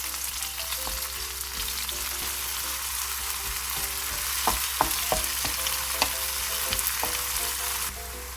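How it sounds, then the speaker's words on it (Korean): Kimchi stir-fried with scallion oil in a hot pan, a steady loud sizzle broken by repeated scraping and clacking of the utensil as it is tossed. "김치 2컵을 넣고 파기름과 함께 달달달 또 볶아주세요."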